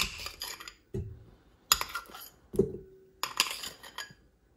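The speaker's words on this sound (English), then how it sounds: "Now, I do like to cut my butter up, because I think it makes it easier on the mixer." Softened butter is cut up into a mixing bowl, with a series of close metallic clinks and scrapes of a utensil against the bowl, separated by short pauses.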